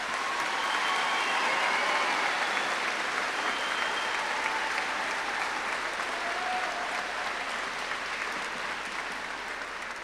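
Sustained applause from a large crowd honouring graduates at a high school ceremony, a thick wash of clapping that holds strong for several seconds and then slowly thins.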